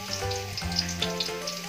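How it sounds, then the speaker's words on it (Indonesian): Garlic sautéing in hot oil for a creamy chicken pastel, a steady close sizzle with light crackle and faint stirring scrapes, no voices. "pwede na natin igisa yung ating bawang"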